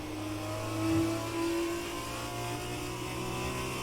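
F1 2020 race car in a video game holding full throttle, a steady droning engine tone with a brief rise near the one-second mark, continuous and fairly close, no voices.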